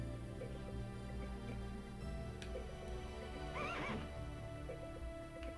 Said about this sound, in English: that horse is sure neighing a lot in this